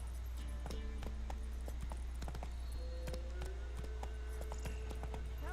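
Roach, the horse in the video game The Witcher 3: Wild Hunt, gallops in a steady rhythmic clip-clop of hooves, moderately close and quiet under a constant low background hum, with brief game effects scattered over it.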